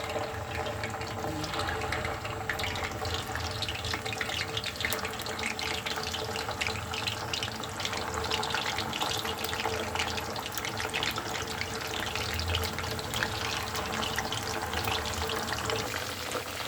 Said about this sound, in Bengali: হালকা ফ্লেমে, হালকা না মিডিয়াম ফ্লেমে আপনারা সুন্দর করে ভেজে নেবেন।